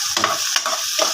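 Chopped chayote being stirred in a hot pan with pork belly, three quick scraping strokes over a continuous close sizzle, no talking.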